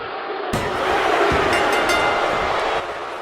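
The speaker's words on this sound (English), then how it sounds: "The crowd is erupting as Escobar covers Williams." A wrestling arena crowd in WWE 2K24 roars as a pinfall cover is made, a loud sustained wash of cheering with a few sharp impacts, continuing steadily throughout.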